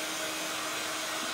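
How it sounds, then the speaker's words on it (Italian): Hair dryer blowing a steady, loud stream of air over a large wet patch of watercolour and ink on paper, a continuous broadband whoosh with no pauses and no talking. "per asciugare queste cose, gli acquerelli, le paste, i colori acrilici, va benissimo anche il phon"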